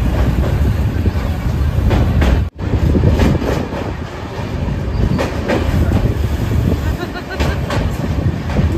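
The Sealdah–Puri Duronto Express, a 16-coach train, crossing Bally Bridge, heard from on board as a loud, steady rumble with rhythmic clickety-clack of wheels and a brief momentary dropout partway through.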